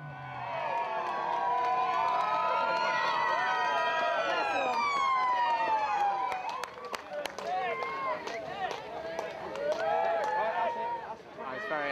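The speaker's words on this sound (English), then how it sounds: "I was very excited by the police sirens there." Police car sirens wail and sweep up and down at a city event celebrating the film Hot Fuzz, loud and close over a cheering crowd, with voices mixed in.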